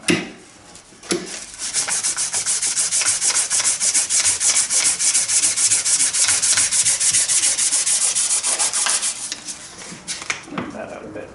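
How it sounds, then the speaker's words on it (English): Metal rubbed by hand with dry 400-grit wet/dry sandpaper, a rapid, steady run of close scratchy back-and-forth strokes that starts after a brief pause and tapers off near the end. "You take its 400 wet dry sandpaper. We're just going to leave it dry."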